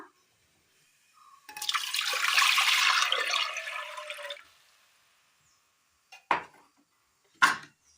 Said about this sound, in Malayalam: ഒരു കുക്കർ എടുത്തതിന് ശേഷം അതിലേക്ക് അല്പം വെള്ളം ഒഴിച്ചു കൊടുക്കുക